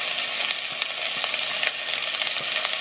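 Garlic sizzling in hot oil in a frying pan, a steady dense crackling hiss that stays close and even throughout with small pops, cooking for a Filipino pork giniling dish.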